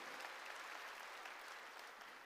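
A church congregation clapping during a sermon, a dense, even burst of applause that fills the space and tapers slightly toward the end.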